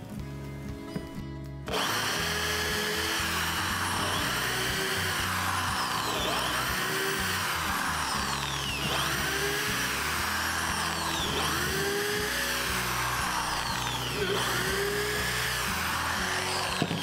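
A power drill whirs loudly and continuously, its pitch rising and falling in repeated cycles as it bores pilot holes for henhouse roosting bars, close by with no talking.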